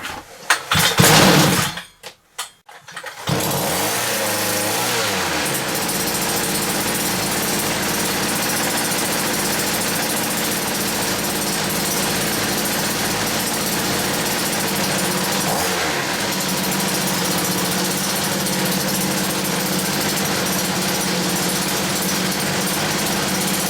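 A small petrol engine on a cheap combi unit is pulled into life after a few loud rough bursts, then keeps up a steady buzzing rev at close range with no talk over it.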